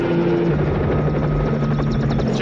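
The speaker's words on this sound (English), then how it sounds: "What's that army helicopter doing here?" An army helicopter in an action movie scene, with loud, steady rotor thumping and engine buzz that fill the whole stretch without a break.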